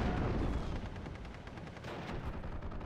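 Battle sounds from the game Steel Division: Normandy 44 around a 25-pounder artillery gun: a rolling series of booming shots and rumbling blasts, moderately distant and fairly quiet, continuing without pause.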